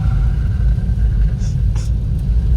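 Steady low interior rumble of a car driving to the garden on a rainy day, heard from inside the cabin, continuous and fairly loud with no talk.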